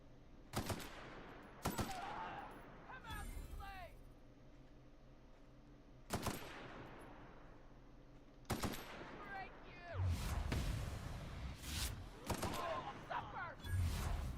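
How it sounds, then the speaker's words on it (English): Assault rifle fire in The Outer Worlds Spacer's Choice Edition comes in loud, sharp bursts spread across the stretch: a few quick volleys early on, then heavier, denser strings of shots near the end. "Let's try the assault rifle."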